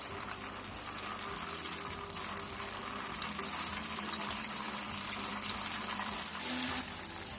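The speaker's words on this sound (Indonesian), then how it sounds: "Setelah minyaknya panas, kemudian kita goreng" Tofu snacks fry in a pan of hot oil over medium-low heat, a steady dense sizzle and crackle that continues for the whole stretch, fairly quiet, with a low hum beneath and no talking.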